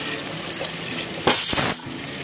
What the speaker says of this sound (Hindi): अब हम डालेंगे इसमें हमारे मसाले।